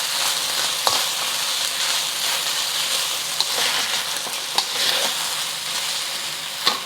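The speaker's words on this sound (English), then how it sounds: "Let us stir." HK-style beef fried rice stir-fried in a hot pan gives a loud, steady sizzle, broken by a few sharp scrapes and clacks from the stirring utensil close by.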